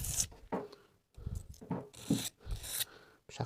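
A household knife is drawn across a whetstone in repeated rasping strokes, about six close scraping passes separated by brief gaps.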